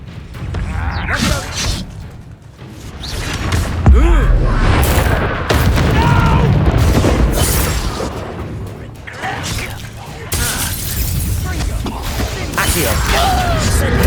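Confringo fire spell bursting in Hogwarts Legacy combat, a heavy boom amid swishes, crashes and other spell effects, with in-game voices shouting over the fight.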